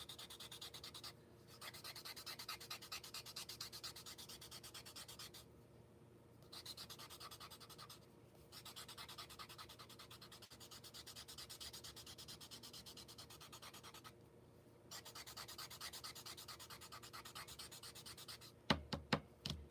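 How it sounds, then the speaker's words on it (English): Paper blending stump scrubbed back and forth on a small sandpaper paddle to clean it, fast gritty rasping in long runs broken by short pauses, close and quiet, a few knocks at the end. "the way you refresh your blending stump is you have these little sandpaper paddles."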